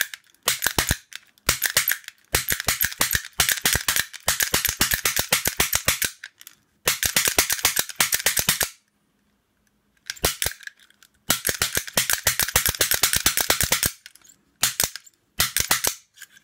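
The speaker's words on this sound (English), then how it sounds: "it can actually be quite tricky to open this one, especially with a snap gun" Modified cheap Chinese snap gun working a 4-pin lock, firing rapid bursts of sharp metallic snaps close up, broken by short pauses and near silence between runs.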